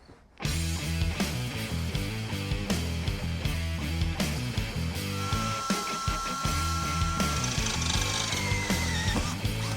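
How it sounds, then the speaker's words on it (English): A power drill whirs steadily and loudly through the whole stretch, with shifting pitch and grinding texture as it bites into material, drilling holes in a Crown Victoria race car. "make a couple holes down here, mark them with a marker, and drill them out"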